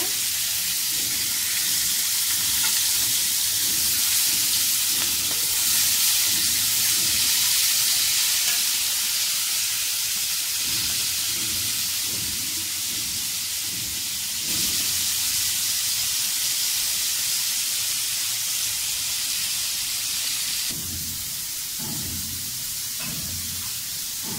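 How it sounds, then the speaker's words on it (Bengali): Pointed gourd (potol) pieces rubbed with salt and turmeric fry in hot oil, giving a steady close sizzle with soft bubbling crackle and occasional stirring scrapes throughout. "তো আমি পটলগুলি ধুয়ে লবণ হলুদ মাখিয়ে এখন একটু ভেজে নেব।"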